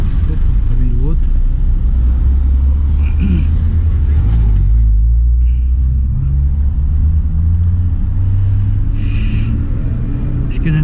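Another car rolls along a Rio de Janeiro street, a continuous loud engine rumble that swells midway as it draws near, while voices talk over the noise.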